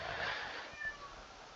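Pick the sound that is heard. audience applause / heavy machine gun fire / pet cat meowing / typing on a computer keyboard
pet cat meowing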